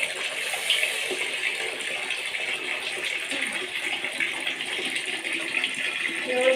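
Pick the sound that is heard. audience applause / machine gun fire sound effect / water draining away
water draining away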